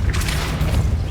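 The Depulso spell cast in Hogwarts Legacy lands as a loud, deep booming whoosh, a single dense burst of force filling the short moment up close.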